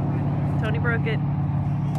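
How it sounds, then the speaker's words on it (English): A car engine idles with a steady low hum and rumble, close by, while a voice speaks briefly over it. "All right, I got Tony's car going."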